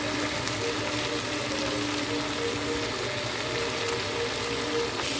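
Okra and onion pakoras frying in hot oil in a home kitchen, a steady, dense sizzle and crackle that holds close and even throughout, with no talking.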